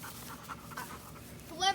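A dog pants in quick, rhythmic breaths close by, with a brief voice rising at the very end.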